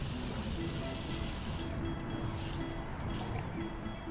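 Water pours into a cooking pot in Cooking Simulator, a soft continuous trickling fill with light dripping plinks, fairly quiet and steady.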